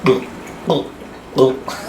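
A voice mimics a green frog's call in three short, plucky gulps spaced roughly evenly apart, close-up and without other speech.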